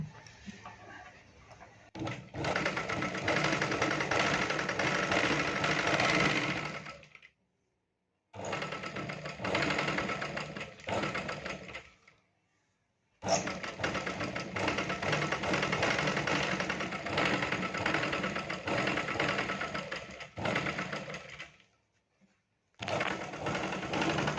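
A sewing machine stitches a half-katori blouse in long runs of fast, steady mechanical whirring, broken by several short pauses, heard up close with no voices.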